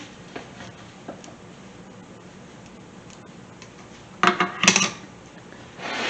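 A spatula scrapes under English muffins in a stovetop pan, with soft ticks and then a short burst of metallic clatter and scraping near the end. No one speaks.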